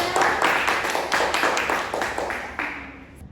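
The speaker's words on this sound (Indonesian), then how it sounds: "Tepuk tangan untuk kelompok 3." A class of students claps for a group in a microteaching session, a run of rhythmic, fairly even claps close by that fades toward the end.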